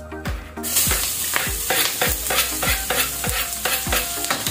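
Garlic, onion and ginger frying in oil in a pan, with a loud, steady sizzle and regular spatula stirring strokes about twice a second, close up.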